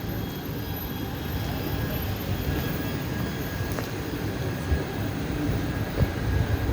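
Gorakhdham Express passenger train running after lockdown, a steady broadband rumble and rolling rail noise holding constant throughout, with faint clicks and a couple of brief knocks, fairly loud and close, no talking.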